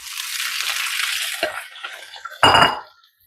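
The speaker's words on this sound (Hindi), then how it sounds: "इसमें हम ये डाल देंगे आलू" Sliced potatoes go into a pan of onions and cumin frying in oil. A steady sizzle is followed by a short, loud clatter and a burst of frying as they land, then it fades.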